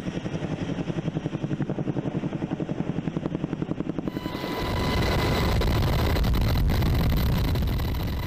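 Helicopter with a Bambi firefighting bucket slung below on a long line, loud rhythmic rotor thumping at first, then a broad roaring engine and rotor wash as it passes close.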